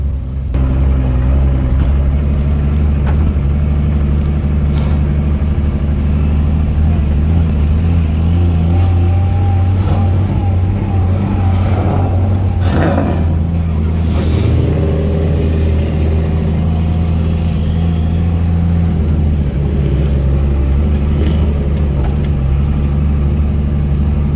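A Toyota Chaser drift car rolls slowly through the pits at a drifting event, its engine a steady, close, low rumble throughout with a brief swell of revs midway.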